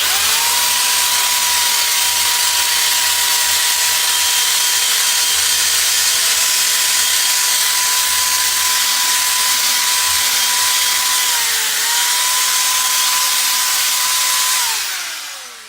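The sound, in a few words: wire wheel on drill scrubbing metal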